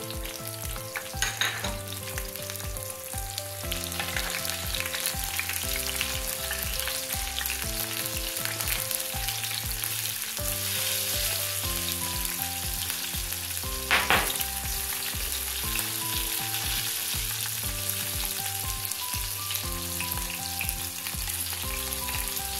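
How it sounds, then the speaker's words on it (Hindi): Garlic and green chili sizzle and crackle steadily in hot ghee for a dal tempering, a long stretch, with a musical backing playing underneath throughout. "हम इसमें लहसुन डाल देंगे और तड़का मज़ेदार सा अच्छा सा हम तड़का रेडी कर लेंगे दाल के लिए"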